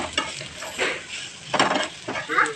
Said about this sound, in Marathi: त्याच्यामध्ये खोबरं टाकायचं आणि परत एकदा मसाला मंदाजेवरती हलवून घ्यायचा